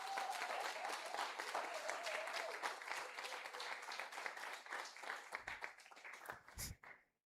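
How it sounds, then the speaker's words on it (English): Audience clapping for teachers at a community hero awards ceremony, a sustained crowd of hands that thins into scattered individual claps and faint murmurs before fading out. "Clap them."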